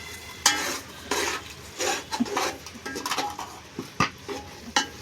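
Spiced masala frying in oil in a pot for mutton biryani, stirred with a spoon that scrapes and clinks in irregular bursts over a soft sizzle, close by.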